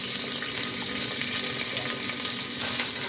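Mustard seeds, curry leaves, pepper and cloves frying in hot oil make a loud, dense, unbroken hiss and crackle, close up and steady for the whole stretch with no one speaking.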